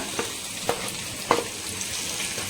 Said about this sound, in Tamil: நம்ம இப்போ அப்படியே சாட்டேஜ் பண்ணிக்கலாம்